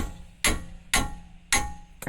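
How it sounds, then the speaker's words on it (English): A hammer strikes a socket to loosen wheel bearing bolts on a 2015 Dodge Journey, four sharp metallic taps spaced about half a second apart, close and clear with nothing else around them. "I just had a hammer handy, so that's what I'm going to use."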